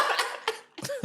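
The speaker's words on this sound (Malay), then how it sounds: "Batuk saya dengar dia punya ni." Someone coughing, with three short, breathy bursts close to the microphone that blend into a chuckle-like sound.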